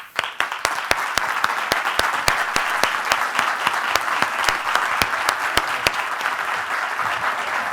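Audience applause after a talk on ransomware and cybersecurity, loud continuous clapping from a crowd with sharp individual claps standing out, without speech.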